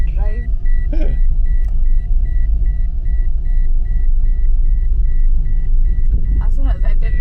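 A car rumbles steadily from inside the cabin during a driving lesson, a loud continuous low engine and road drone with a regular repeating beep above it and brief voices at the start and end.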